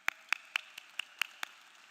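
Seven sharp, evenly spaced hand claps, faint and steady, from people at the Morris Jeff Community School Class of 2025 commencement ceremony, with nothing else audible.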